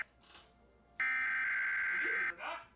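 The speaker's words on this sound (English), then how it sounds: "the evacuation alarm sounded!" Building evacuation alarm blaring as a loud, steady electronic tone for over a second, with faint voices before and after it.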